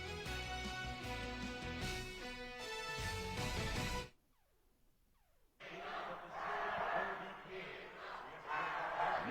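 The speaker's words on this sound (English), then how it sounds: "Milford fans trying to cheer their team on to victory" Milford fans cheer at a girls' state basketball game against Minden, a loud arena crowd with band-like music at first, a brief near-silent gap, then a sustained roar of voices.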